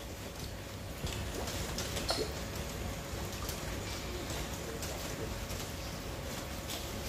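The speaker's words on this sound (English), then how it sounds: "Oh, it start raining again?" Light rain patters steadily at a distance, a soft continuous hiss with scattered drips, quiet and without talking.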